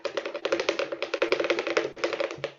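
Rapid clicking of accordion right-hand buttons, dense dry taps in quick irregular bursts, close and moderately loud, with no voices.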